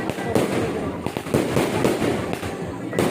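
Firecrackers pop and crackle in quick, uneven bursts amid a busy outdoor din at a neighbourhood Diwali celebration, with people talking underneath.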